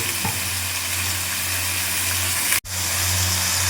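Vegetables fry lightly in a pan with a little turmeric and salt, giving a steady, close, even sizzle over a low hum, with one brief sharp cut partway through.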